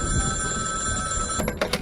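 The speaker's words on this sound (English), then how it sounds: "I was sitting in my office late one evening when the phone rang" Telephone bell ringing in a radio-style detective audio drama, a sustained loud electronic ring filling the moment, with a brief break and rattling pulses near the end.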